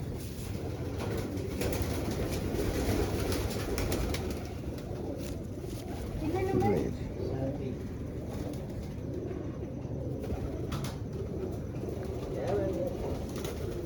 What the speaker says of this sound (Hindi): ये 2020 कबूतर है जी नायाब साहब के।